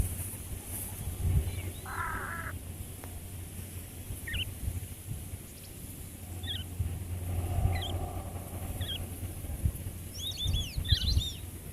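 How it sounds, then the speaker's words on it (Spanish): Birds over a lagoon give scattered short chirps and calls, some distant and faint, over a low steady rumble of outdoor ambience. "la actividad de aves volando sobre la laguna no cesaba."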